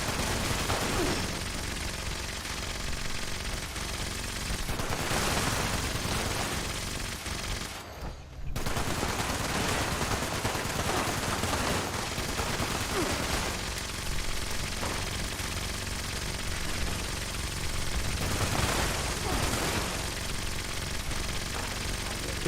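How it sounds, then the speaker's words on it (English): Rapid automatic gunfire rattles almost nonstop as a player shoots a wall in Fallout 76. The bursts are loud and dense, with one short pause partway through. "Did a great job of shooting the wall."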